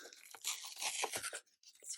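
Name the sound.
tearing open a sticker kit package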